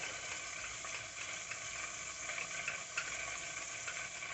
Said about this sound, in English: back over here to the stove. We're going to stir this up really good